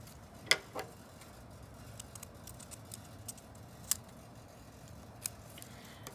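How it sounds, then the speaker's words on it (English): Scissors snipping orange paper quilling strips into thirds, a few sharp, quiet cuts spaced irregularly over a soft background hiss. "go ahead and cut our orange strips into"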